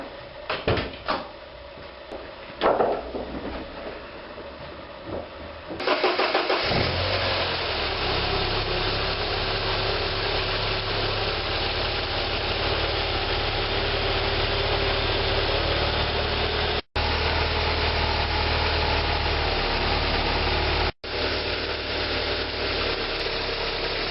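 A Porsche 944 S2 engine cranks and catches after a water pump and timing belt job, then settles into a loud, steady idle that runs on at close range, broken by two brief cuts.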